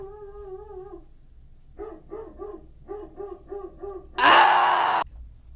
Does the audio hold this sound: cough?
no